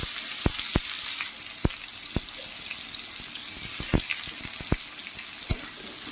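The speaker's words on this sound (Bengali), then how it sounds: "পেঁয়াজটা একটু ভেজে ফিরে আসছি।" Onions fry in a pan with a steady, close sizzle, broken by several sharp clicks and taps of a utensil against the pan. No one speaks.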